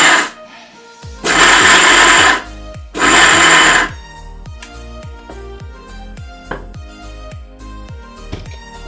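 A kitchen mixer grinds cardamom pods for laddu in two loud whirring bursts of about a second each, separated by a short pause, with rhythmic tapping and clicking before and after.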